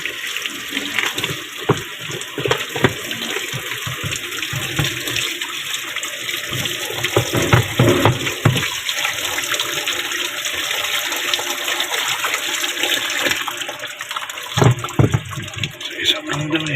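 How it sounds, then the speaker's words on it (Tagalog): Water poured into a dirty, clogged washing machine drain, a steady rushing and splashing flow lasting throughout, close and fairly loud, with occasional knocks and handling sounds. "Tubigan natin ng konti."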